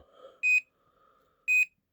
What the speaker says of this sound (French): Donc, bip lent, bip rapide.